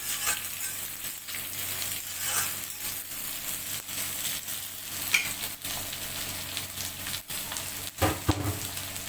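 Chicken and chopped onion fry in an iron kadai, hissing and crackling steadily, with stirring clanks and scrapes and a few sharper knocks near the end. Nobody speaks.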